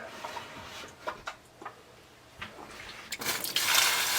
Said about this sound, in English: And then I'm going to add 32 ounces of chicken broth.